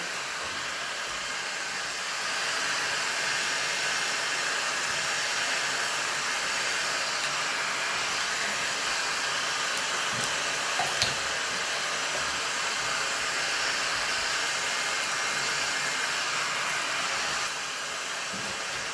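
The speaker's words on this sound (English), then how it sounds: "that was all about this heat gun" Parkside PHLG 2000 E4 heat gun running, a steady loud airy roar of blowing fan noise held throughout, stepping up slightly early on and dropping back near the end.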